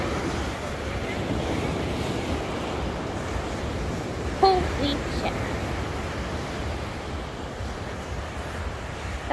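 Ocean surf at Ocean City beach, a steady broad wash of waves with wind buffeting the microphone and one brief louder knock partway through.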